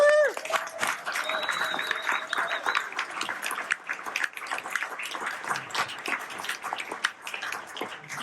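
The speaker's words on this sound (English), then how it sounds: "huge round of applause" Applause from a pub audience welcoming the next speaker at a politics talk in Fremantle, a dense burst of clapping that fades slightly but carries on throughout, with a brief voice at the start.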